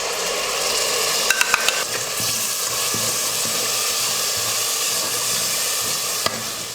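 Ground tomato paste goes into a frying masala of onion and ginger-garlic paste for chicken kulambu, giving a loud, continuous sizzle and hiss with a few brief clinks and scrapes of a stirring spoon.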